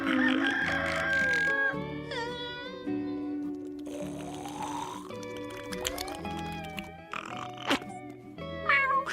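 A voice imitates a rooster crowing amid cartoon sound effects, with warbling rising and falling tones and animal-like squawks layered over a low musical backing.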